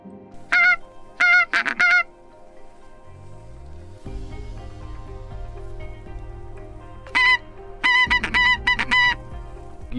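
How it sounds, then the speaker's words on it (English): A flock of geese calling overhead near a hill in Aberdeen during goose shooting over decoys, loud honking bursts in two clusters separated by quieter stretches, with low steady background rumble. "there's such a volume of geese just over the back of the hill here calling"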